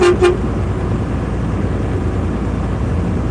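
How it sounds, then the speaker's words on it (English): A loud truck horn blasts twice in quick succession at the start, then fades into a steady rumble of engine and road noise. "Can't help but honk my horn."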